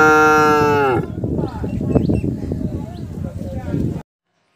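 A bull gives one long, low, drawn-out moo lasting about a second, then a rougher, noisy rumble that continues for a few seconds before stopping abruptly.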